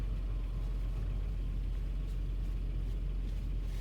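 Steady low road rumble from inside a vehicle driving toward the countryside, constant engine and tire drone with no talking.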